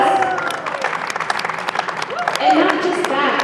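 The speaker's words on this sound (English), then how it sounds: "Can we give her a round of applause?" A conference audience at SolarCon claps and cheers for the winner of a Woman of the Year award in social media: a short, lively burst of clapping and cheering.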